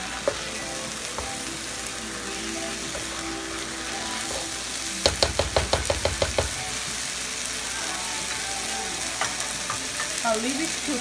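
Rice with parsley cooking in olive oil in a pan, a steady low sizzle throughout, broken midway by a quick run of sharp knocks as the pan is stirred.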